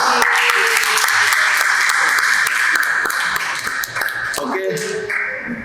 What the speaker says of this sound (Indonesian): Tepuk tangannya dulu nih